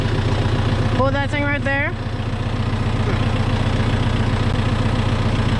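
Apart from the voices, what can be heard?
Kubota M6040 four-cylinder tractor engine idling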